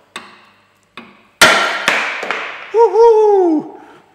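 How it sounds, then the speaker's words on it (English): Metal hammer blows tapping out a rear subframe bush on a Ford Mondeo Mk3, a few sharp close strikes in uneven rhythm, followed by a short whooping voice. "I'm just wondering if I use a hammer, whether that will just tap out the rest of the way."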